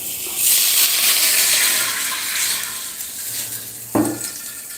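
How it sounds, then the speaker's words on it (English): Tap water gushes steadily onto a frying pan being cleaned in a kitchen, a broad hissing rush with a sharp metallic clank near the end. "I'm just cleaning this pan."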